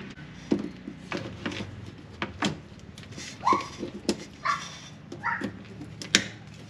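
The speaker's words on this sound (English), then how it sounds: "Are you a dog?" A dog barks and yips in short, separate bursts at moderate distance, with a faint whimpering quality between barks and a little background noise.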